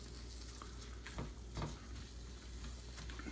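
Chopped onion sizzles and fries steadily in a hot skillet as it caramelizes, with a few brief stirring scrapes over the constant crackle.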